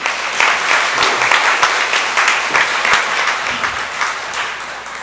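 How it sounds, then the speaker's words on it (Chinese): Steady applause from a church congregation welcoming a visiting pastor, a dense wash of clapping with scattered louder claps, continuous throughout. "咱倒一届用掌声来代表咱的欢迎"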